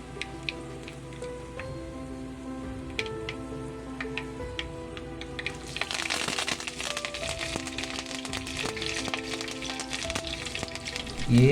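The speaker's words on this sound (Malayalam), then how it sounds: "കറിവേപ്പില ആവശ്യത്തിന് കറിവേപ്പിലയും കൂടെ ഇട്ട് കടുക് പൊട്ടിക്കുക." Mustard seeds spluttering in hot oil with curry leaves and dried red chillies for a Kerala-style cabbage egg thoran: sharp scattered pops over a soft sizzle that grow denser and louder halfway through, with music playing underneath.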